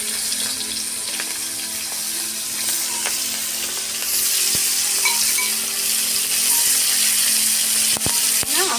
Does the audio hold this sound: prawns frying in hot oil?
yes